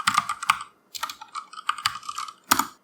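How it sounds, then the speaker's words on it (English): Several quick bursts of keystrokes on a computer keyboard as a git command is typed, crisp and close with short pauses between clusters, no talking. "So I'll just type in git stash."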